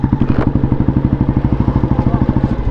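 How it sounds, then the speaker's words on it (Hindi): A diesel-powered motorcycle, a jugaad rig built to haul loads on a street in Gujarat, chugs loudly and close by with a fast, even thumping beat that holds steady throughout. "ये रहा डीजल वाला मोटरसाइकिल"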